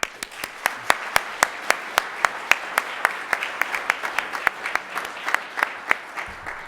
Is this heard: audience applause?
yes